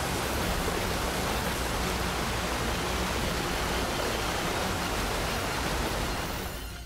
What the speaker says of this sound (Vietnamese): Hoàng hậu và những tên lính chưa kịp chạy thì nước đã ào ào tới nhấn chìm